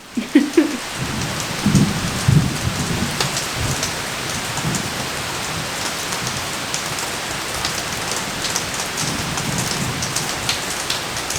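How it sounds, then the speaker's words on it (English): Steady rain patters down continuously in Atlanta, a dense hiss of drops on a surface with no voices, a few heavier splashes near the start. "it is raining"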